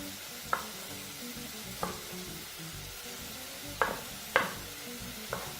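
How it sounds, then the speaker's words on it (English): Quiet sizzling of chicken frying in a pot over medium heat, with occasional sharp clinks and scrapes of a utensil stirring at irregular intervals. "proceed to continue cooking your chicken at about medium heat"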